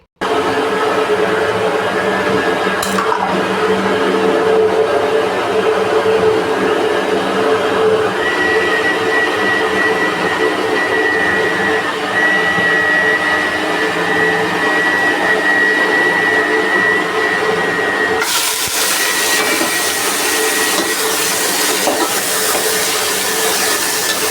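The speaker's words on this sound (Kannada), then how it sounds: "ಇವಾಗ ಇಲ್ಲಿರೋ ಮಸಾಲೆ ಪೂರ್ತಿ ಹಾಕ್ಕೊಂಡು ರುಬ್ಕೊಂಡು ಬರ್ತೀನಿ" A mixer grinder runs loud and steady for about eighteen seconds, grinding masala for a mutton sambar, then its pitch jumps higher for the last few seconds.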